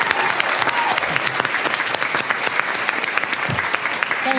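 An audience applauds steadily and loudly to congratulate three honorees at a school board gathering, with dense, continuous clapping that fills the room.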